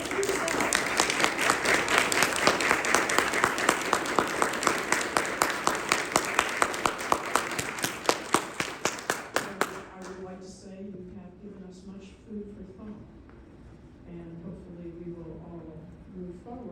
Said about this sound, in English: I would like to ask you all to give a nice round of applause for our speakers and yourself.